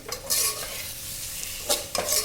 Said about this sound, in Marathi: आता आपण ह्याच्यामध्ये मस्त तळलेला कांदा घालणार आहे चव चांगली लागते ह्याच्याने आणि हे चांगलं मिक्स करायचं आहे